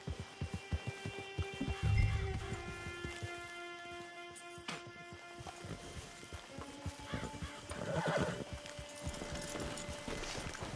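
Horse sounds from Red Dead Redemption 2 near the camp, with hoof clip-clop and a whinny among game music and ambience, moderately loud and fairly near.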